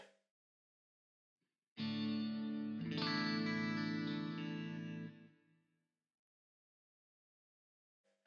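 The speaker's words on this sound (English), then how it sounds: "So there's delay, going to turn the mix down here. There's reverb." A sustained electric guitar chord rings out with a thick wash of effects, swelling briefly, then trailing off into a fading echo and reverb tail before silence.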